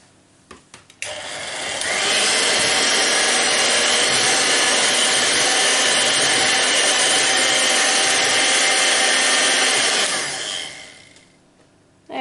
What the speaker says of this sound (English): make sure it's touching the bottom before I turn the mixer on